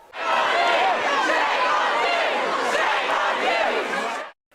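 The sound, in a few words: protest crowd chanting at police during vigil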